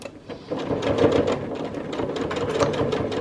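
A sewing machine stitches binding onto a quilt, its rapid needle chatter running steadily up close after a brief quiet start.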